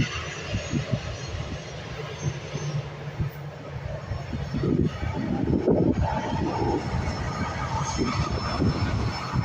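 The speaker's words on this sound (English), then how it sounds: "Here we go, FR7032, leaving us for Faro. This Ryanair operated Boeing 737." A Ryanair Boeing 737 departs the airport, its engine roar rumbling at a distance and growing steadily louder over several seconds.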